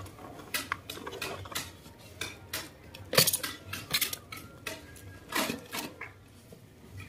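Epoxy grout being mixed in a container, heard as steady scraping, clinking stirring strokes of a tool against the sides, close up and continuous with uneven rhythm, no talk.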